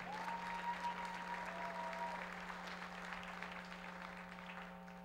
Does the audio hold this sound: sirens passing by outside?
no